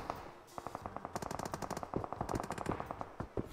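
Rapid automatic gunfire from a PUBG-style battle royale video game rattles off in quick bursts, sharp and fairly faint, with a slight echo and no talking.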